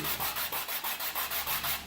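Steady back-and-forth rubbing of hand sanding on a Suzuki Sirius motorcycle part, about ten regular strokes in quick rhythm, close and fairly quiet.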